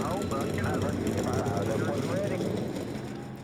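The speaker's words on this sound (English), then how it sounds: "42 engines fire up in the Arizona Desert to go racing the Gatorade Cup Series chase" Stock car engines in NASCAR Racing 2003, forty-two Gatorade Cup Series cars firing up in the Arizona desert, roar as a dense idling rumble that fades slightly at the end, with a voice talking over it.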